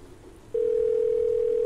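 Steady telephone dial tone in a Roblox game, starting abruptly after a quiet moment and holding as one loud, continuous pure tone.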